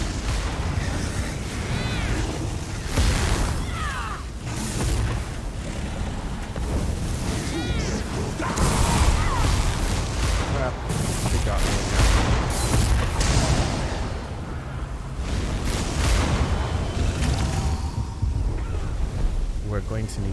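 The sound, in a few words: Blast Bones skill explosions, Elder Scrolls Online video game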